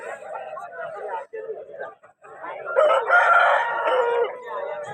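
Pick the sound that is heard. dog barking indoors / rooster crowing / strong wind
rooster crowing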